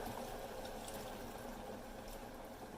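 Water being poured into a pan of frying chicken, producing a steady, soft rushing and bubbling sizzle that holds evenly throughout the short stretch, fairly faint and with no talking.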